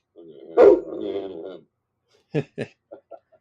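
A pet dog gives a drawn-out, whining vocal bark, then after a pause a few short, sharp yips that trail off in volume, close to the microphone.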